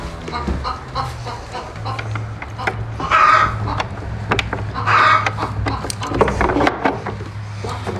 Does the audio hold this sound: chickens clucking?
yes